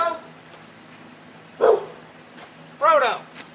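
A dog barks twice in a workshop where barium nitrate is being reduced with lead sponge, each short yelping burst fairly close and moderately loud against a quiet background hum, with a pause between them.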